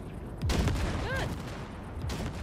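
Gunfire in Cyberpunk 2077 as the Basilisk hover tank blasts wrecks: heavy booming bursts with rumbling low thuds and a whining electronic tone, a voice briefly heard among the blasts.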